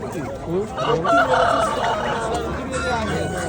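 A rooster crows loudly once at a poultry market in Xo'jaobod, a long drawn-out call rising over a busy background of clucking fowl and low murmuring.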